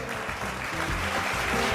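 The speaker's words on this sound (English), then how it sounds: "A huge round of applause for her." An audience at an awards ceremony claps in a steady, dense round of applause that holds at an even level throughout.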